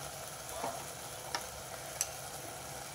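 Broad beans and fenugreek leaves cooking in oil as a curry, giving a faint steady sizzle with a few soft scrapes and taps of a spoon stirring the pan.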